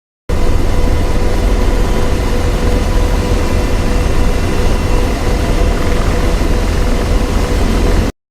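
Steady, loud rotor and turbine drone of an AH-64D Apache helicopter in a flight simulator, continuous and unbroken as the aircraft pitches nose-down into a loop.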